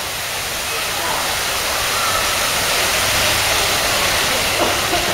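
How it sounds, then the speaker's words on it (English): Water flows steadily through a Great Lakes museum exhibit model, a broad, even rushing wash that holds at a constant level throughout with no pauses. "I think we're supposed to watch the way the water flows."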